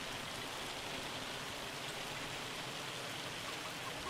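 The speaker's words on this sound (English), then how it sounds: "Of course, it would hail." Hail falls in the video game Farming Simulator 25, a quiet, dense, even patter of pellets on surfaces that runs continuously without a break.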